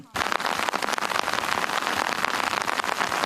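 Heavy downpour pounding outdoors along a border during a foot patrol, a loud, dense, steady hiss with crackling drops that begins abruptly and continues without pause.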